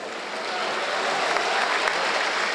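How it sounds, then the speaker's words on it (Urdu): Steady, dense applause from an audience at a speech event fills the whole span, continuous and fairly loud with no voices rising above it. "میں یہی چاہوں گا آپ تالیاں بجاتے رہیں"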